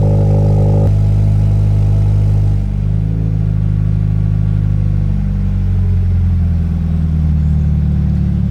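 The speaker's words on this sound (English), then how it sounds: "the car is at 1500 RPM" A Toyota car engine idles at 1500 RPM while warming up, a loud, close, steady droning hum that settles into a lower idle partway through.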